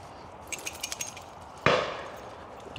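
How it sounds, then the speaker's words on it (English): A single distant gunshot from a pheasant shoot carries across the Twywell Hills and Dales countryside: a sharp crack with a short echoing tail, preceded by a few faint light clicks in an otherwise quiet outdoor scene. "You might hear some gunshots in the background."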